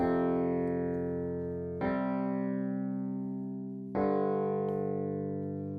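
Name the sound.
Wurlitzer electric piano playing chords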